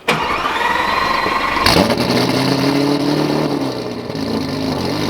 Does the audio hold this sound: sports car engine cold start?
yes